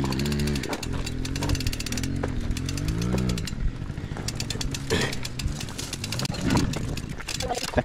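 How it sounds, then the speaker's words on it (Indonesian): A motorcycle engine strains on a steep uphill climb with a harsh, buzzing, rattling drone whose pitch wavers and surges up close. It carries on throughout, with occasional voices mixed in. "Kahit po yung motor oh, nahihirapan sa pag-akyat."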